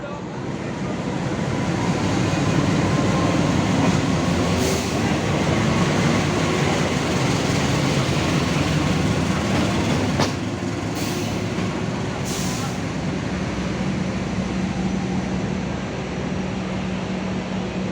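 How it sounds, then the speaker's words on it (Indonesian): The KA Sangkuriang locomotive under way, a continuous loud rumble of engine and rolling wheels with a few brief higher squeals and clanks, close and steady throughout. "ini lokomotifnya sudah bergerak"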